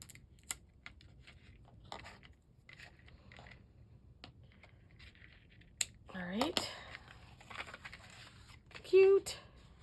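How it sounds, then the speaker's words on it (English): Scissors snip off excess scotch tape on a kid's Easter card made with window cling stickers, a few short close cuts with crinkling tape and paper handling around them, under quiet talk. "And then we can cut that excess off."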